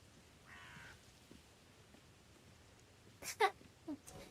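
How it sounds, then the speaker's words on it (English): A crow caws in a horror video game, a few harsh croaks late in the clip that are faint and somewhat distant, with a brief tonal sound earlier over a quiet background. "It's the exact same crow sound you get in Secret World."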